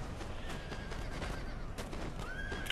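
Horses neigh and whinny during a battle in the strategy video game Napoleon: Total War, set against a steady wash of battlefield noise, with hooves clip-clopping and a few calls rising above it.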